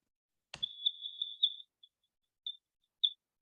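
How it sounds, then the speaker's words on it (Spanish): Very high-pitched, thin tone bursts from high-pass filtered audio that keeps only frequencies around 17,500 Hz, a continuous whine for about a second followed by a few short, faint, scattered blips. "Estoy dejando pasar solamente las frecuencias más altas."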